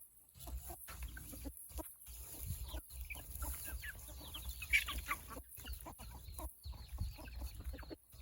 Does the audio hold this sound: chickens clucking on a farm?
yes